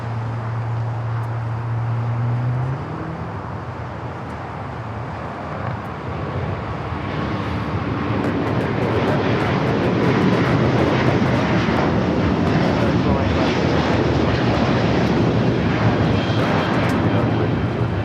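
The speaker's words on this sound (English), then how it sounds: "Japan Airlines Flight 15 taking off to Tokyo Haneda on the A350 1000." Japan Airlines Airbus A350-1000 on its takeoff roll at Los Angeles LAX, a low jet rumble swelling into a loud, broad, sustained engine roar that holds to the end, with a brief radio voice heard early on.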